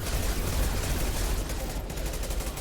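Dense, continuous gunfire in a video game, rapid shots blurring into a loud sustained barrage that hardly lets up over the whole stretch.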